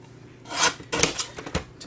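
Card paper being trimmed to size for a congratulations card, a few short crisp cutting and slicing strokes, close and moderately loud, in quick succession.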